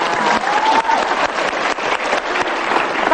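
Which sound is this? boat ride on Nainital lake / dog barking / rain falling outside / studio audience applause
studio audience applause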